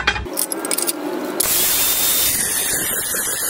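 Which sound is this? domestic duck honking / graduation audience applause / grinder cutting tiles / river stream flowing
grinder cutting tiles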